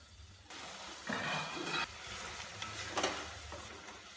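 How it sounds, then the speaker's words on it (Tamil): Soaked soya chunks sauté in butter in a pan, hissing and sizzling in bursts as they are turned, with soft scraping stirs between louder surges. "ஊற வச்சிருக்கிற சோயா சங்க்ஸை போட்டுக்கலாம் இதை கொஞ்சம் நேரம் நல்லா இது போல வதக்கிக்கலாங்க"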